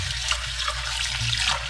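Tap water pours steadily into a sink while shrimp and mussels are washed, a close, continuous rushing splash with no pauses and no talk.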